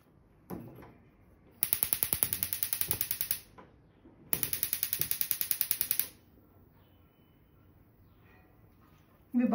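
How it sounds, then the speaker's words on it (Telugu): A gas stove's igniter is clicked to light it before milk is boiled: two separate bursts of rapid, evenly spaced clicks, each lasting under two seconds, fairly loud and close, with quiet kitchen background and no talking. "స్టవ్ వెలిగించుకుందాం."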